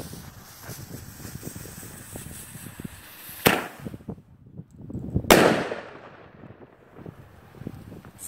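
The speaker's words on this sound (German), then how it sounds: "Sehr schönes Bombenrohr, kräftiger Zerleger, lauter Knall" Two sharp explosive bangs a couple of seconds apart from a firework mortar shell, the second louder and booming, with quiet wind and ambience in between.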